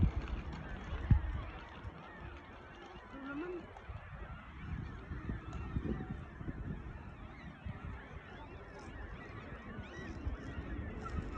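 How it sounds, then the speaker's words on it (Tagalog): Distant honking calls from a flock of ducks drift over a windy outdoor background, faint and scattered, with some nearby handling noise. "Nandun maraming ibon, no? Ingay."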